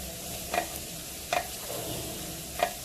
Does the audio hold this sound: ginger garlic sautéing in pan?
yes